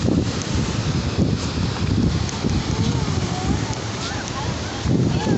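Strong coastal wind roars and buffets the microphone steadily throughout, with a faint voice murmuring underneath.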